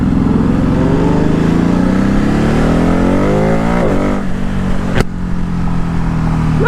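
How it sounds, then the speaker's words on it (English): An Aston Martin accelerates hard along a back road, its engine note climbing loudly and steadily in pitch before easing off, with a sharp click near the end. "listen to this car now"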